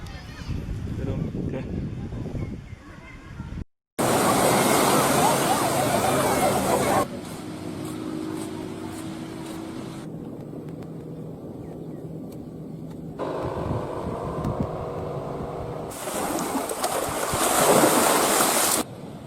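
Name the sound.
ocean waves at a beach on Langkawi island, Malaysia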